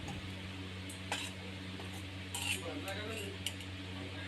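A spoon scrapes and taps in a steel kadhai while sabudana potato sheera with red chili powder is stirred, giving faint intermittent clinks over a steady low background hum.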